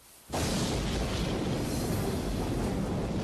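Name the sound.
boiler explosion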